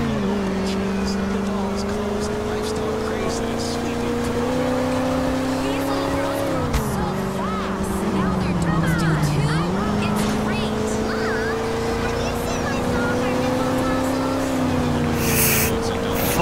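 A car engine drones steadily in Grand Theft Auto IV, its pitch rising and dipping as the vehicle speeds along, with brief tire squeals and continuous game noise while someone talks over it.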